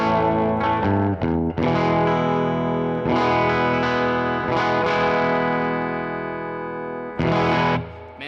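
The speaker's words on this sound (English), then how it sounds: "this is the 1967 Gretsch 6187 Viking. Here's what it sounds like." A 1967 Gretsch 6187 Viking electric guitar on its bridge pickup, strummed chords ringing out with reverb and some distortion, several struck chords sustaining and fading, close and alone.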